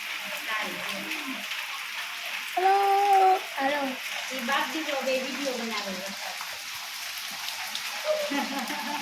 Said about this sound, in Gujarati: જોયો તો વરસાદ કેવો છે હમણાં જ આવ્યો એકદમ